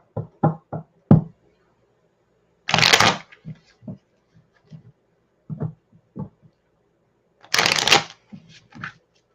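Tarot cards being shuffled by hand: two bursts of riffling, each about a second long, with scattered taps and knocks of the deck between them in a quiet room, and no talking.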